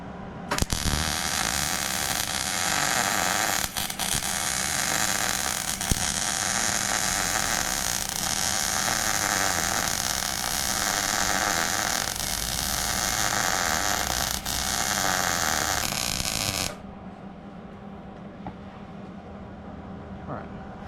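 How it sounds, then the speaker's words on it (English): Welding on a mobile mechanic's service truck being repaired after an accident: a steady, loud crackling buzz runs unbroken for about seventeen seconds and then cuts off, leaving a low background hum. "So we're gonna weld this whole thing out right now."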